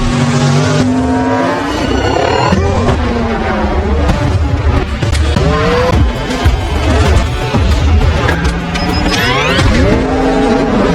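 An old family car modified with nitrous races through a film chase scene, its engine roaring and revving as tires squeal and skid, dense and loud throughout under a busy soundtrack.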